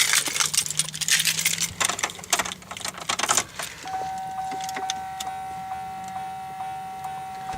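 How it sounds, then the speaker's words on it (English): A car's warning chime dings repeatedly at an even pace on a cold morning, following a few seconds of rustling and clinking handling noises. "The chime even sounds cold."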